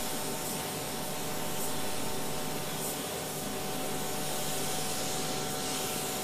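A spray gun held close lays final base coats in custom automotive painting, producing a steady, moderately loud hiss that continues without break.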